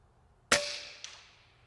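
A single sharp crack from an FX Panthera air rifle fired at a squirrel target, followed half a second later by a fainter metallic tick of the impact, with a short ringing decay in an otherwise quiet setting.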